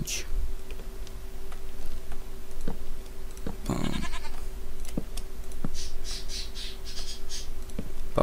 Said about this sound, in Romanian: Papagal prost.